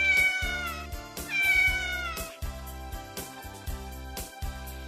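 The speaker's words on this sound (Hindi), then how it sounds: "बिल्ली" A cat meows loudly and clearly in several drawn-out calls over steady background music, with no talking.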